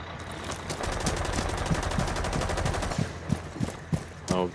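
Rapid automatic gunfire in the Rainbow Six Siege video game rattles out in long bursts at close range, then breaks into scattered single shots and short bursts toward the end.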